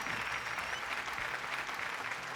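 Studio audience applause on a Malayalam television game show, a steady wash of clapping that carries evenly from start to finish with no voices over it.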